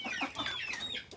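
Hens clucking busily and close by at a home nest area where broody hens are kept, a dense run of short, overlapping clucks with no talk.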